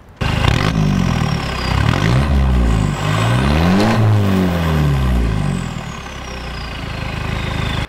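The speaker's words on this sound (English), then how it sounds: "This is my Isuzu Frontier, KB280, diesel turbo." An Isuzu Frontier KB280 pickup with a turbo diesel engine runs close by, its engine note rising and falling through several revs over a steady mechanical whir.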